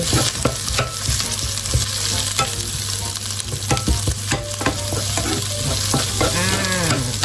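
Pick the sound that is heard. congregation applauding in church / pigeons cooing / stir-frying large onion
stir-frying large onion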